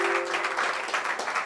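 A brief burst of audience applause at a philosophy talk, steady and moderately loud throughout, with a faint sustained musical tone in the background.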